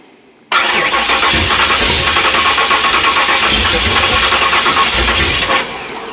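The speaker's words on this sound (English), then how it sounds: "We'll just go ahead and see if we can crank it." A Ford engine fitted with a Holley Sniper fuel injection system cranks and catches, bursting from near silence into a loud, steady running roar that drops slightly at the end.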